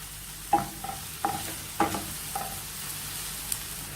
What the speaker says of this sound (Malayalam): തക്കാളിയും നന്നായി വാട്ടിയെടുക്കാം